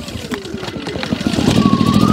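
A Firman W01682 2000/1600-watt inverter portable generator is pull-started with the choke set; its small engine catches and its hum rises and steadies over about two seconds, loud and close.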